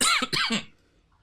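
A brief, close throat clearing, a couple of quick rough bursts that trail off into quiet.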